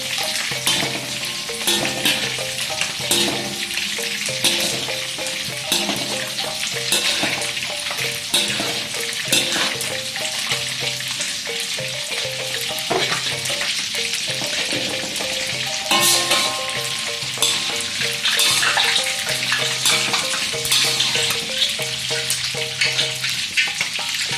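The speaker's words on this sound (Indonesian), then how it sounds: "Kerupuk empingnya kita goreng" Emping crackers frying in hot oil, a steady dense sizzle and crackle that runs unbroken throughout with small spatters, close and alone without any talk.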